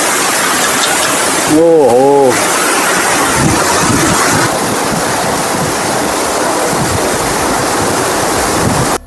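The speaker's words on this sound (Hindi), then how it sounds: "बहुत ही बड़ा झरना है, ऊपर से देख रहे हो किस तरीके से पानी आ रहा है" A large mountain waterfall near Badrinath roars in a steady, loud, broadband rush throughout, with spray close by; a brief voiced exclamation cuts in early.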